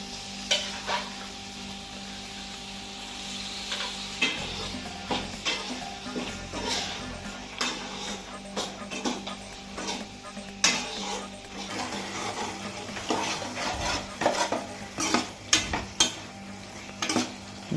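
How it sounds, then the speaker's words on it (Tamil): Mutton stirred into masala in a pan gives a continuous low sizzle with repeated scraping and clinking of a utensil against the pan, in uneven bursts, with no voices. "இப்போ வந்து நமக்கு தேவையான மட்டன் வந்து இதுல போட்டுக்கலாம்."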